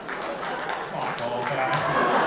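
A nightclub comedy-show audience applauds, a steady wash of clapping with a few sharper claps on top, continuous and swelling slightly toward the end, with crowd murmur under it.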